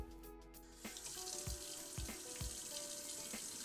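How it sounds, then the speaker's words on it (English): Tap water runs steadily from a faucet into a sink to rinse an enteral feeding system, with a continuous broadband splash punctuated by a few louder drips and clinks, fairly quiet and without voices. "You should also rinse the feeding system with tap water and store in a clean place until next use."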